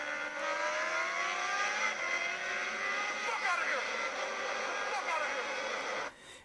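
BMW S1000RR and Kawasaki H2 motorcycles racing, a loud sustained engine whine climbing steadily in pitch through the gears, with a voice talking over it before it cuts off sharply near the end.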